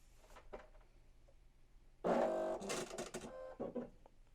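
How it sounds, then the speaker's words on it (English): A Brother SE1900 embroidery machine powering on, with soft clicks and then a loud mechanical whir and buzzing as the carriage moves, followed by a few shorter motor bursts. "Then I'll turn my machine back on. It's going to have a lot of loud sounds and movement"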